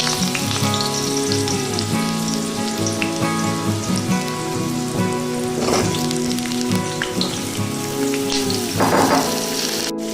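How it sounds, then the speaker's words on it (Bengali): Potato pieces frying in oil in a wok, a dense, continuous crackling sizzle like heavy rain, loud and close for the whole stretch, with occasional stirring and no talk. "তেলের মধ্যে আমি আলুটা দিয়ে ভালো করে ভেজে নেব"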